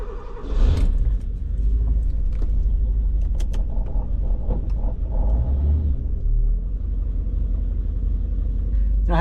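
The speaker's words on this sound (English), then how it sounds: "So this is a cold start." A 1985 Porsche 928 S V8 starting from cold: a short cranking burst, then a deep, steady, rumbling idle close to the microphone with faint metallic clinks on top.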